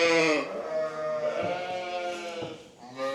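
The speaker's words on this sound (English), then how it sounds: "a lot of these sheep right now are just like, why have you woke me up?" Farm sheep bleat loudly and close by, several drawn-out wavering calls overlapping one after another with brief gaps.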